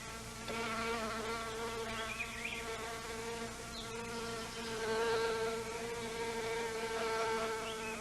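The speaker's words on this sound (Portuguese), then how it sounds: "E a abelha vem porque a sua própria reprodução depende do que a orquídea oferece." A male pollinator bee buzzes close to an orchid, a steady, droning hum that holds for the whole stretch and swells slightly midway, with no voices.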